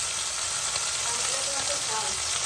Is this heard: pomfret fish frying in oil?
yes